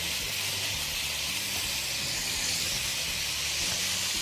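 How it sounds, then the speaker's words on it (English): Seasoned alligator meat sizzles in a skillet with a constant, even hiss at close range that continues unbroken throughout. "I'm gonna kind of flatten it out in the skillet so it all gets browned a little bit."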